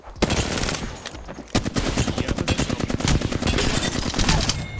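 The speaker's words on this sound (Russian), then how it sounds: "Я с бедра стрелял" Automatic gunfire in the Apex Legends video game, loud rapid bursts of shots with a brief pause partway through, then a long steady stream of rattling fire to the end.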